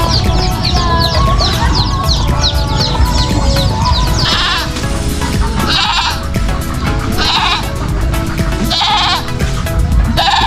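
Goats bleat repeatedly over steady noisy background, several loud calls in succession with chicken clucks mixed in.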